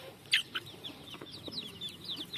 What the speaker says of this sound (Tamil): கோழிக்கு அவிச்ச மீன் போடுதோம், நல்லா சாப்பிடும் குஞ்சுங்களாம்